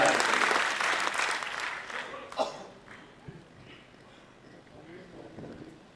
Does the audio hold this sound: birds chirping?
no